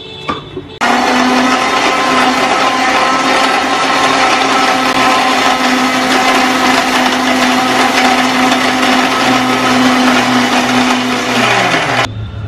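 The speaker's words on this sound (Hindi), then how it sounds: "तो अब इसे मिक्सी में चला लेना है।" A kitchen blender whirs loudly and continuously for about eleven seconds, mashing mango for a smoothie, a steady high grinding motor, then cuts off abruptly.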